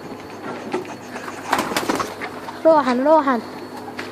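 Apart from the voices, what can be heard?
pigeons cooing and flying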